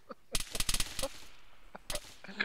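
Star Wars blaster fire in ARMA 3, a burst of rapid sharp shots followed by a pause and another short volley, then a final distant crack, loud and punchy with no one talking.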